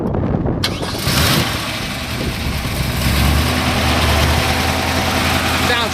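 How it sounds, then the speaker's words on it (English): A 1962 Chevrolet Impala SS 409 with electronic ignition, dual exhaust and Flowmasters cranks briefly, fires, and settles into a loud, deep, rumbling idle heard up close, with some talking underneath. "We'll go ahead and fire this one up for you."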